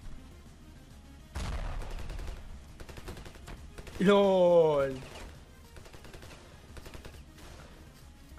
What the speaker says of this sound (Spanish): Hay alguien disparándome.